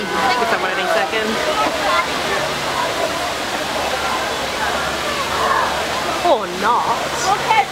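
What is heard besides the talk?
water rushing at the Splash Mountain ride, Magic Kingdom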